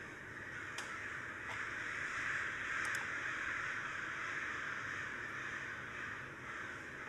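Crows caw outside, with a few sharp calls standing out over a steady bed of outdoor ambient noise, fairly faint and distant, with no one speaking.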